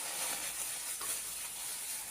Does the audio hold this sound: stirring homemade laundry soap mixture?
yes